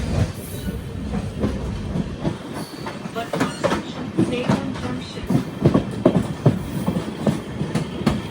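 Amrit Bharat Express passenger train rolling into a railway station on the Erode–Jogbani route, with steady rhythmic wheel clatter and rumble close by, repeated clicks over rail joints growing denser toward the end.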